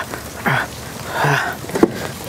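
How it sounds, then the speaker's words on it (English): Rain falling outdoors on an errand day, a continuous soft patter with a few brief louder knocks and rustles mixed in. "It is raining."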